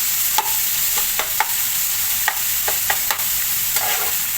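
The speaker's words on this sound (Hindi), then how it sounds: "अब मैं साथ में डाल दूँगी चिकन को पहले हम सौटे करेंगे।" Soft steady sizzle of chicken sautéing in a pan, broken by several sharp scraping taps of a utensil stirring, with no voices.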